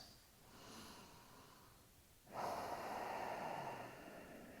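A person breathes in slowly through the nose, then lets out a longer breath through the mouth during a kneeling movement practice. The exhale is a louder, airy rush, close and soft, with no speech.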